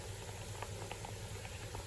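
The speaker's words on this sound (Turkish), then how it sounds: "Böyle gidiyor bu su bak." Water from a stream runs in a steady, even burble with light patter, moderately close and unbroken, with no talking over it.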